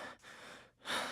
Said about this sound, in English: Makoto panting